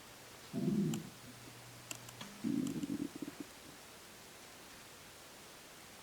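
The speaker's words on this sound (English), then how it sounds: "My stomach's growling." Stomach growling on a quiet porch, two low gurgling rumbles about a second apart, close and fairly soft, with a few faint clicks between them and nothing else around.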